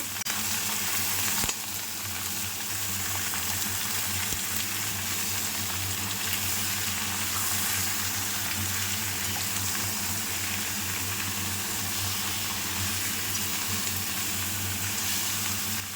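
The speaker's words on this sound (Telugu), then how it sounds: "సో ఇక్కడ వన్ కేజీ చికెన్ యాడ్ చేసుకున్నాక ఒకసారి మంచిగా మిక్స్ చేయండి" One kilogram of chicken fries with golden brown onions in a pan, making a steady, continuous sizzle and crackle while it is stirred. A single sharp knock comes early on, and no one talks.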